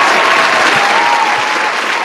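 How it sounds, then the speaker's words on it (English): Loud, dense applause for guests at a panel session, continuous and evenly sustained throughout with no voices breaking through. "I have to take a point of personal privilege to give them some applause"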